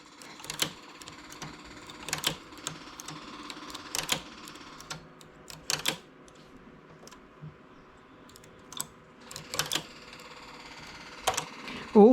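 A knitting machine makes lace with bursts of rapid mechanical clacking as the carriage runs across, separated by quieter pauses with a low hum, near and moderately loud.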